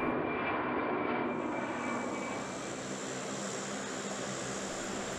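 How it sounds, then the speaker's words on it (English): C-17 Globemaster military jet transport launching from an airfield: a loud, steady jet engine roar with a high whine, sustained throughout without speech. "a total of 21 aircraft were launched in rapid succession, including several C-17 Globemasters."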